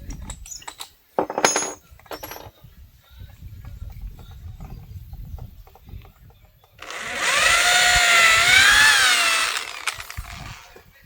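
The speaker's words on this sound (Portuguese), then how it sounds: "já fiz o furo nessa de baixo aqui também" A power drill bores a hole in a solid wood rustic table leg. Scattered handling knocks and clatter come first, then the drill runs close and loud in a sustained whine of about three seconds, rising slightly in pitch before stopping.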